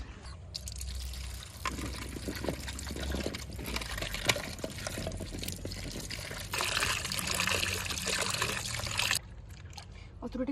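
Water is poured out onto plants in a home kitchen setting while making abaralla pickle, a steady splashing pour running for several seconds, fairly loud, with some voices in the background.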